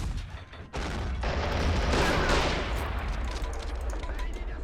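Autocannon fire and explosions from the Men of War: Assault Squad 2 war game roll in a dense, loud barrage, starting after a brief lull and sustained through the end with crackling bursts.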